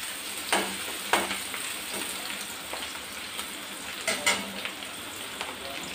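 Onions frying in oil in a pan while cooking a U.P.-style ridge gourd curry, a steady close sizzle with a few sharper pops and crackles scattered through, no voices.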